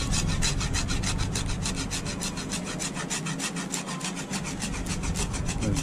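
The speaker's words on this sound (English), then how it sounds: "and just scraping the bark using the blade, the softer bits" Pocket knife blade scraping bark off a carved wooden peg, a loud close rhythmic rasp repeating in quick even strokes throughout, with no talking.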